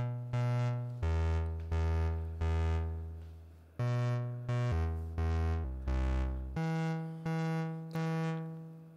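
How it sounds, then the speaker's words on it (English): A mrseri Monsoon resonator module in resonator mode plays its input signals as a run of bright, pitched, sustained tones, each starting sharply and fading slightly before the next, about a dozen notes in an uneven, clocked rhythm. "what you're hearing right now is the resonator playing the input signals,"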